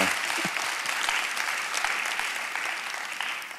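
A church audience at a Friday night service breaks into dense sustained applause, many hands clapping together in a loud steady wash that carries through the whole moment without pause.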